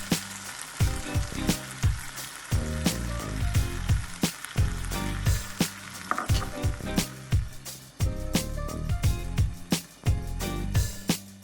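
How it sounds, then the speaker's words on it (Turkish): Beaten eggs seasoned with black pepper hit frying potatoes in a pan, a loud continuous sizzle with crackles and repeated knocks of a utensil, close by and without any talking. "Pişen patateslerin üzerine karabiber ilave edilmiş yumurtayı dökünüz."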